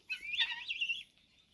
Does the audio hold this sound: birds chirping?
yes